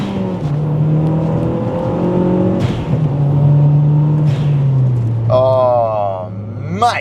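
A modified Mazda 6 MPS with a turbocharged engine accelerates hard, a steady droning engine note rising through the gears, loud and continuous from inside the car, with a brief higher whine near the end.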